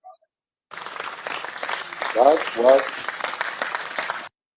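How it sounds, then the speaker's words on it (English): Slow applause in an online chat, a spread-out patter of claps that swells twice in the middle before stopping abruptly, with voices audible underneath. "Slow clap, slow clap."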